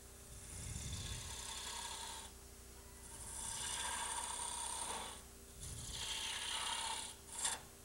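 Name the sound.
skew chisel catching on wood while turning on lathe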